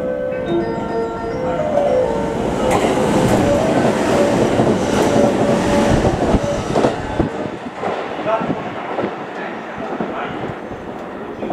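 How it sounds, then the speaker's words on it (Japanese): A JR West train rushes through Sugimotocho Station on the Hanwa Line in Japan with a loud, steady roar and rhythmic rail clatter, a Japanese platform announcement of a passing train faintly audible beneath, fading slightly toward the end. "3番乗り場を電車が通過します。"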